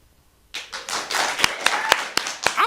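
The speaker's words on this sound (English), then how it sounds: "Another round of applause for Carly." A small audience claps for a stand-up comedian after her set, a sudden burst of applause with some sharp individual claps standing out, close and lively, as a voice begins over it at the end.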